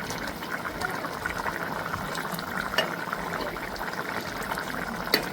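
Village-style chicken curry simmers in a pot, giving a soft, steady bubbling hiss with occasional sharper pops, fairly quiet and close.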